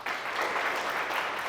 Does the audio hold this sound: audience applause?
yes